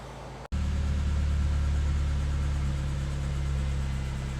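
A 2012 Toyota Camry SE with a P0016 check-engine fault starts with a quick catch and settles straight into a steady, close engine idle that holds evenly without talk.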